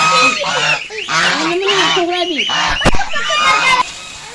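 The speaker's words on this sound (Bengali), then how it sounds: "এই যে এখন কিন্তু হাঁসগুলো বাইরে চলে যাচ্ছে ঘাস খাওয়ার জন্য।" Ducks heading outside to graze on grass quack and honk loudly close by, with a voice speaking over the birds.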